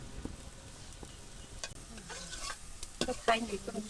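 Shrimp and potatoes sizzle and fry in a pan while being stirred, a steady low crackle broken by several scraping, clinking spoon strokes against the pan.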